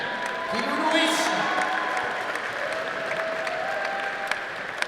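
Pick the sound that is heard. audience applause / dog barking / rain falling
audience applause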